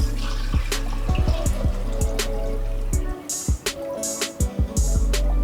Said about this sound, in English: I'll pour in my banga extract.